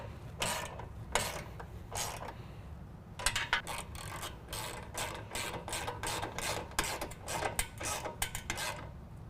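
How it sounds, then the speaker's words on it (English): Repeated ratcheting and metallic working sounds come from a 13mm wrench and socket tightening bolts on a running-board step bracket of a 2017 Dodge Ram 1500, in short close bursts over a steady low hum. "I'm going to go ahead and use a 13mm wrench and socket to tighten down the"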